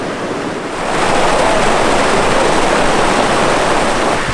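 Waterfall near Neelam Sarai in Bastar, Chhattisgarh: a loud, steady broadband rush of falling water that swells within the first second and then roars evenly and close throughout.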